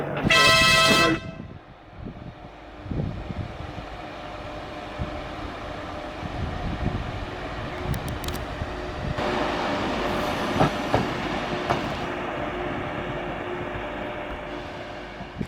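An old Midland Metro tram sounds a sharp, loud horn blast at the start, then rumbles and clatters steadily as it runs, with occasional clanks and squeals.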